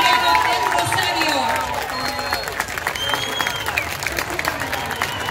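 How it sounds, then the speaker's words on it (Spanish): After an Asturian dance and bagpipe group performs at a community festival in Rosario, Argentina, the crowd claps and cheers loudly, with voices calling out over the applause as it eases slightly partway through. "Fuerte el aplauso para el Centro Juliano del Rosario."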